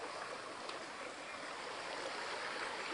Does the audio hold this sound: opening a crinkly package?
no